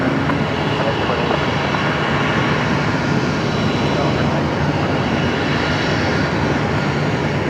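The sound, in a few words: aircraft landing at Brisbane Airport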